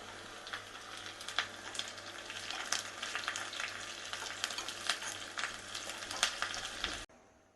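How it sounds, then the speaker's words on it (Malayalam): Hot tempering of mustard seeds, small shallots, curry leaves and dried red chillies in oil crackles and sizzles steadily with sharp popping bursts, poured into a yogurt chilli curry, fairly close and continuous until it stops abruptly near the end. "കടുക് താളിച്ചത് ഒഴിച്ചു കൊടുക്കുകയാണ്."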